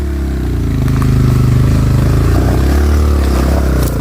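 A motorcycle engine runs loud and close on a dirt trail, a continuous low rumbling drone with slight shifts in pitch as it revs and idles, steady throughout with no speech.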